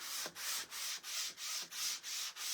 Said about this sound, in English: We're going to take a really fine sanding block. And I'm just going to lightly go over this.